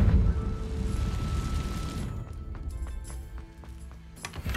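The Confringo blasting spell in Hogwarts Legacy goes off with a heavy, booming explosion right at the start, its rumble fading over a few seconds into lighter clattering pops.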